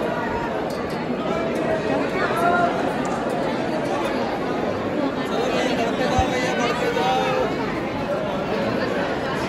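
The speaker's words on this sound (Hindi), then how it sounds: "आज वीकेंड है तो भीड़ देखो कितनी सारी है यहाँ पे" A weekend crowd queues in two lines at Mangalnath temple in Ujjain, a dense, steady babble of many nearby voices talking at once, with a few louder calls now and then.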